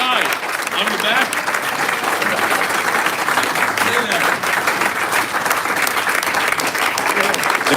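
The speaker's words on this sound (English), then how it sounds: "The clapping is so loud" Loud, dense audience clapping at a Siyum Berachos celebration, a sustained roar of hands that stays strong and even from start to finish.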